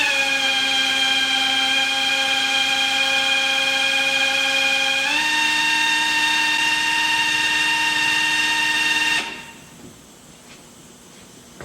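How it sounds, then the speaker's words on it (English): Electric drill spinning the oil pump of a new engine in a 1966 Triumph Spitfire MK2 to build oil pressure: a steady loud whining motor hum that steps up in pitch midway, then cuts off abruptly near the end. "I'm gonna go there and turn the drill, and you're gonna tell me if it moves or not."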